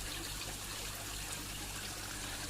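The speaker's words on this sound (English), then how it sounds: "thinning the water out into a very thin film and moving it across a serrated rock surface" A pond water feature cascade spreads a thin film of water over serrated rock, making a steady, close, continuous trickling and splashing wash with no voices.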